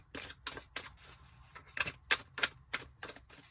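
Rapid crisp riffling clicks of tarot cards being shuffled, a dozen or so sharp bursts in quick irregular rhythm, close by.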